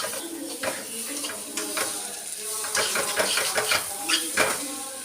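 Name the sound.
spice powders being roasted and stirred in a pan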